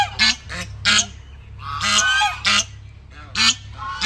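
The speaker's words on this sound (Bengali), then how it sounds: "এই যে বড় বড় রাজহাঁস।" Large geese honk in a garden at Banalakshmi, Shantiniketan, Bolpur, giving loud, nasal calls in about six separate bursts, with some overlapping as several birds call close by.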